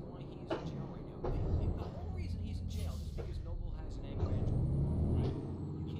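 Air hiss from a fire engine's parking brake in Euro Truck Simulator 2, a sustained rushing release over a low engine rumble, with a person talking over it.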